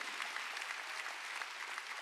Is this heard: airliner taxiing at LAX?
no